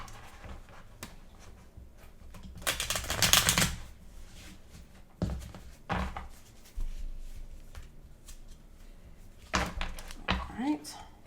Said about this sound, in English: sorry if this kind of shuffling and sound pains you